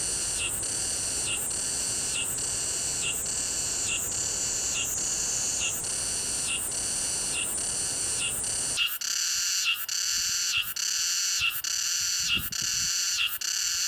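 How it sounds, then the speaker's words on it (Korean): Cicadas shrill loudly in a summer forest, a dense pulsing drone with regular rhythmic surges that stays steady throughout, close and continuous with no voices. "한여름 매미의 울음소리가 가득한 계절."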